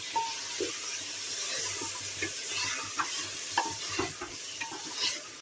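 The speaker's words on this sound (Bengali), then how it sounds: "আদা রসুনটা দিয়ে আমার ভাজা ভাজা হয়ে গেছে" Ginger and garlic fry in a pan with a steady soft sizzle, broken by the scrape and clink of a spatula stirring every second or so, close and moderately quiet with no talking.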